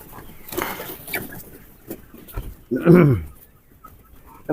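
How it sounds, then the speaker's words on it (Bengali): Chickens cluck and squawk in a small three-storey poultry farm housing about three hundred birds, with scattered calls and one louder close cackle, while people talk nearby. "ছোট ছোট খামার অল্প অল্প মুরগি দেওয়া হয় তিনশোর মতন দেওয়া আছে এখানে"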